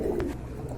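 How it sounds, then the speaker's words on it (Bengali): A pigeon gives a brief, faint coo nearby, one soft low call with no voices. "এখানে আরেক জোড়া কবুতর রয়েছে"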